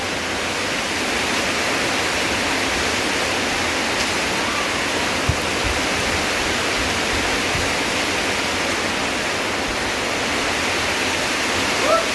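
Heavy rainwater rushing and overflowing during an intense downpour, a loud, steady broadband roar that continues unbroken without letup.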